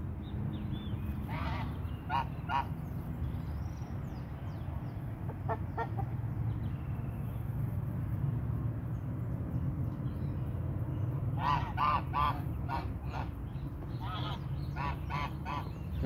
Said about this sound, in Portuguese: Aqui você vê ganso e galinhazinha.